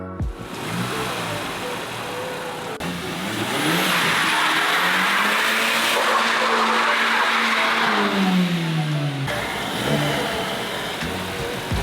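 A Volkswagen Mk5 Golf GTI engine revs loudly up close, pitch climbing and falling through several sustained sweeps with a gravelly exhaust edge and no voices.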